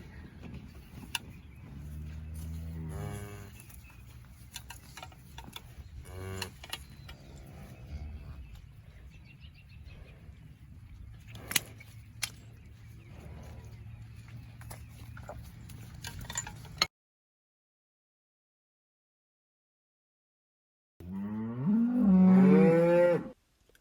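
Cows mooing on a working cattle farm during worming and vaccinating, with several loud low calls over background noise, a stretch of silence, then one more loud moo close by.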